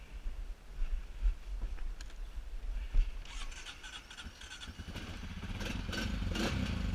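A Honda Rubicon 500 ATV engine runs during a test ride, rising from a low idle-like rumble to a louder, steadier drone with clattering over the final seconds, heard outdoors and fairly close.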